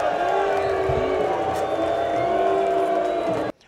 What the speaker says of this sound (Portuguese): A partida termina e mais vaias